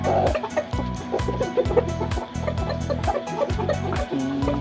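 Chickens cluck intermittently close by as they are fed mangoes, over a steady low mechanical hum with rhythmic pulsing thumps.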